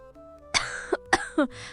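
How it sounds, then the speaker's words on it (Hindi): A woman coughs in a cartoon moral story on a cold night: a quiet hum, then a short burst of three or four raspy, close coughs with vocal catches between them. "माँ, तुम खांस क्यों रही हो?"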